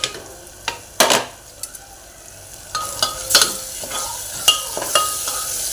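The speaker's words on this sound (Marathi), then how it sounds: "आणि 5 मिनिटे हे मसाले असेच भाजून देणार आहे" Spices roasting in hot oil in a pan, a soft crackling sizzle broken by sharp spoon knocks and scrapes against the pan at irregular intervals, close up with no talking.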